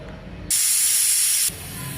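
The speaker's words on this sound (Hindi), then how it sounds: "अब मैं इसकी 2 सीटी ले लूँगी।" Chicken biryani cooks in a pressure cooker as its whistle lets out one loud, steady hiss of steam that lasts about a second, with the quieter kitchen sound before and after it.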